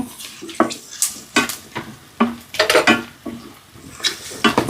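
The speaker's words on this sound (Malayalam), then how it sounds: "എന്നിട്ട് ഇളക്കണു" Chili and turmeric powder with ginger being stirred in a pan, a series of sharp scraping and clinking strokes of a utensil against the metal, close and fairly loud, with short pauses between strokes and no voices.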